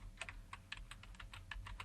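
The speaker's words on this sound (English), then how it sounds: "we can just start typing" Quick, irregular keystrokes on a computer keyboard, close and clear, each tap a short crisp click over a low steady room hum, with no talk.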